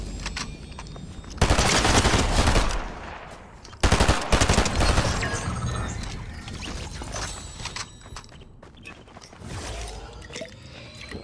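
Bursts of automatic gunfire from a Fortnite match, loud and dense in two long volleys, with scattered lighter shots and clatter in between.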